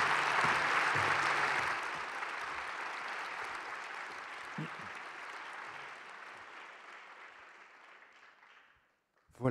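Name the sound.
audience applauding speakers at conference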